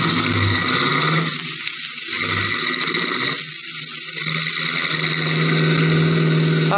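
A car pulling away fast in an old 1948 radio crime drama, its engine a loud steady roar that drops out twice before surging on, alone without talk, with a faint hiss of old recording.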